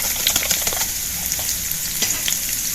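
Garlic, cumin seeds, two red chilies and a pinch of asafoetida sizzle in hot oil for a brinjal bharta, giving a close, continuous crackling fry with small pops scattered throughout.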